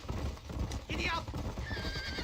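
Horse hooves clip-clop at a gallop in the Red Dead Redemption game world, with a whinny partway through, all steady and close under a continuous layer of talk.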